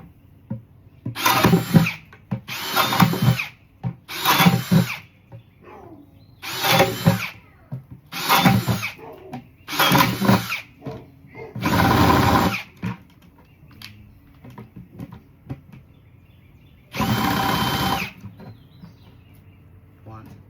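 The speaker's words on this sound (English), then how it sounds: "a drill, something in the drill to make some holes with" A power drill boring holes in a plant pot for transplanting citrus trees, working in about nine short, loud bursts separated by pauses, close by.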